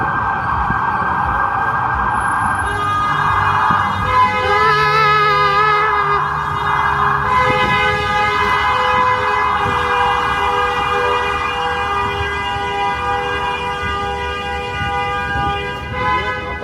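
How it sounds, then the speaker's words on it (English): A car horn on a busy Manhattan street honks loud and unbroken for many seconds, a steady held tone over dense city traffic noise. "Never ending honk."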